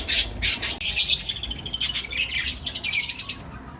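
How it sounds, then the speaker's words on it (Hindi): A budgerigar breeding colony chirps and chatters in a busy, overlapping stream of high tweets and squawks, close and loud throughout. "ये मेरे छोटी सी कॉलोनी है, बजरीज कॉलोनी।"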